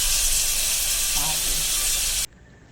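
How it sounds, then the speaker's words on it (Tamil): About a kilogram of washed, cleaned chicken pieces hiss and sizzle loudly in hot oil as they are stirred, a steady frying noise that cuts off abruptly near the end. "இப்போ சிக்கன் 1 கிலோ கழுவி சுத்தம் பண்ணி வச்ச சிக்கனை இப்போ அதில் போட்டு நல்லா அப்படி கிளறி விட்டு"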